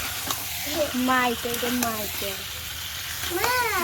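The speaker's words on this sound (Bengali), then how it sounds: "মশলাটা কষানো হয়ে গেছে, দিয়ে এখন এর ভিতরে মাংসটা ছেড়ে দিলাম। তো আমি এখন ভালো করে নাড়াচাড়া করবো।" Mutton frying in spice masala while being stirred in a pan, with a soft continuous sizzle under a voice speaking close by.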